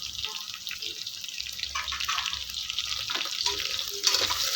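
Long-slit green chilies hitting hot oil in a pan, a bright sizzling and crackling fry with a few stirring clinks, close and fairly quiet, rising slightly near the end.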